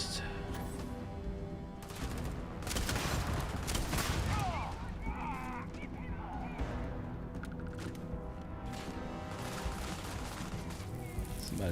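Rapid bursts of gunfire from a mag weapon crackle amid a busy firefight in the video game Starfield, with dense, loud volleys and clattering impacts over a steady background din.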